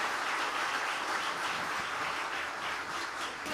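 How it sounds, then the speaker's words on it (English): Audience applause for nine competition finalists at an award event, steady dense clapping from a crowd filling the whole stretch without any talk over it. "they do deserve a big round of applause"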